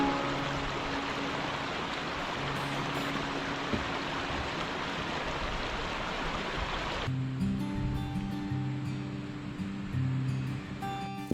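Alpine mountain streams of Élose and Roche-Noire in the Clarée valley, heard as a steady rushing flow for about seven seconds before the sound abruptly drops and gives way to quiet sustained tones.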